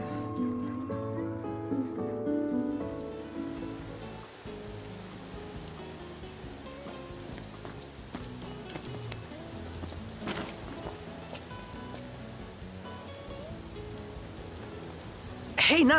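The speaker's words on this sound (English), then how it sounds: "Camping sucks when it rains." Rain falling at a campsite in the video game Final Fantasy 15, a soft, steady patter under game music, with characters talking briefly at the start.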